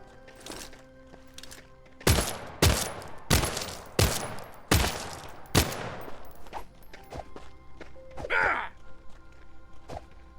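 Shotgun blasts in the survival game The Front, about six sharp, loud booms in an irregular sequence a fraction of a second apart, followed by quieter movement and a brief breathy sound.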